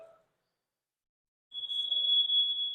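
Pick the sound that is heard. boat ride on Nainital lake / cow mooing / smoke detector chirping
smoke detector chirping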